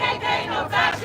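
A crowd at an anti-Trump protest march in Las Vegas chants in unison, a brief, loud rhythmic surge of many voices outdoors.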